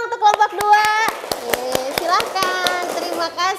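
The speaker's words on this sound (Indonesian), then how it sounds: "Tepuk tangan dong untuk kelompok 2." Schoolchildren in an elementary classroom clap for a group of classmates, a burst of brisk, uneven hand claps close by with children's voices chattering over and between the claps.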